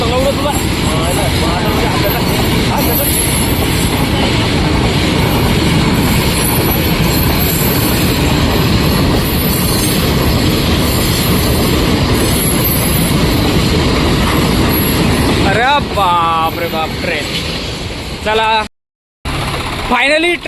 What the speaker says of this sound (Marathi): ट्रेन गेलेली आहे आणि ट्रेन एवढी लंबी होती